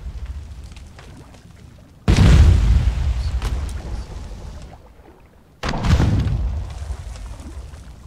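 Two heavy bomb blasts go off during a raid on a hidden base in Conan Exiles, each a sudden loud boom with a long rumbling tail, a few seconds apart, amid quieter game ambience.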